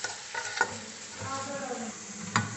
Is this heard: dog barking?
no